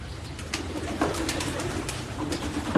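Several long-kept loft pigeons coo close by in soft, repeated low throaty calls, with a few higher chirps and light rustling between them.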